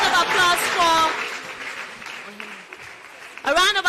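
A studio audience at a TV talent show claps for a contestant, a broad burst of applause in the middle with a voice talking before and after it.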